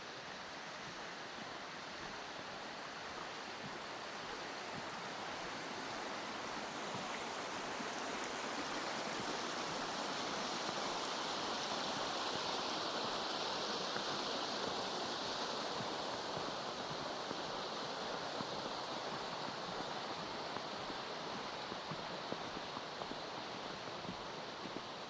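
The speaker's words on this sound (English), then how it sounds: "you might like to enjoy the sound of the brook there" A brook at Gamleborg on Bornholm, Denmark, rushes along in a steady, even babble of flowing water that fills the scene at a constant level for the whole stretch, with no voices.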